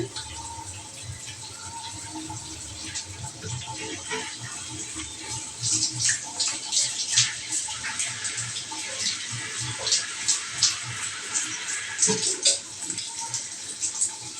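Water splashing and gushing around a person standing in it to cool off in hot sun, steady close sloshing that grows louder and choppier midway, with occasional spoken voice underneath.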